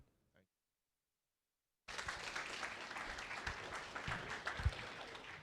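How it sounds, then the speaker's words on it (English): After a stretch of near silence, a university orientation day audience suddenly breaks into sustained applause that continues steadily to the end. "Please give them another round of applause"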